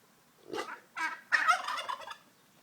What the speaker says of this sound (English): That's the turkey.